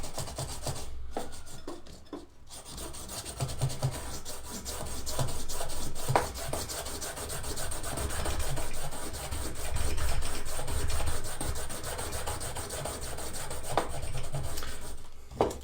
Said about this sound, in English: It's scraping more than cutting.